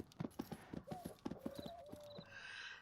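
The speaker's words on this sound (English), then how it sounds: "The sound of your horse's hooves disturb an old soldier from his small farmhouse." Horse hooves clip-clop in the fantasy video game Disciples: Liberation, a quick, close rhythm of hollow knocks that slows and trails off, followed by a brief soft chime.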